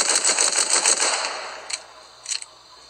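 Rapid pistol gunfire in the game Fortnite's arena solos, a dense run of sharp close shots for the first second and a half, then two isolated bursts trailing off.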